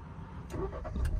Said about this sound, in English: Let's just start the car up quickly for you.